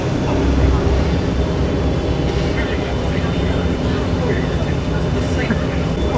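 Steady, loud roar and hum of a modern passenger hovercraft's engines as it departs, heard from inside the cabin with people talking over the constant drone.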